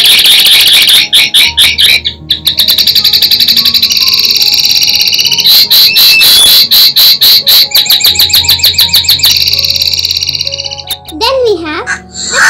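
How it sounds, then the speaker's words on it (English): A linnet gives a rapid chuckling call, loud and close, a fast series of dense bursts repeated in several runs, followed by a short voiced sweep near the end. "the sound that a linnet makes is chuckle"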